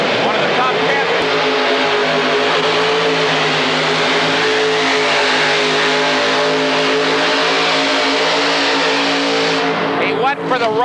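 A modified pulling tractor roars at full power at the 1986 Indy Super Pull, a loud sustained engine drone with steady harmonic tones. An announcer talks over it, and the engine cuts off abruptly near the end.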